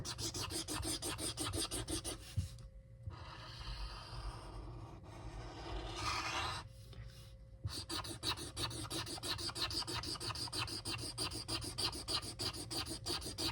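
Continuous fast scratchy rubbing of a marker tip on paper, close up, with rapid back-and-forth strokes and a brief pause midway.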